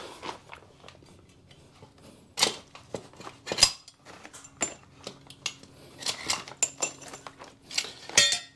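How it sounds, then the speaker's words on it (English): Metal pins and bolts being removed from a M.O.R.E. Hide-A-Step door step on a Jeep CJ7, heard as sparse close clinks, taps and rattles of small steel parts spread across quiet stretches. "I'm going to remove the 2 pins now to try to make it a little easier to get access to the holes to put the nuts on the bolts"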